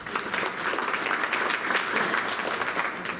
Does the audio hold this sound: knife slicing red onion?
no